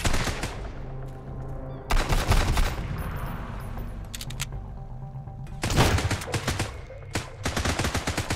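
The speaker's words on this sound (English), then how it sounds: "who's shooting at me?" Gunfire in the survival game Sunkenland, several loud rapid automatic bursts separated by quieter gaps, close and punchy with no speech over them.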